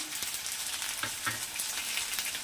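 Spices being stirred into a tomato curry in a pan, a close, steady sizzle of frying with a few soft scraping stirs of the spoon.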